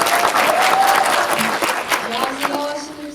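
A cinema audience applauds at a film screening Q&A for the movie '1987' at CGV Yeongdeungpo, a full burst of clapping with a voice speaking over it near the end.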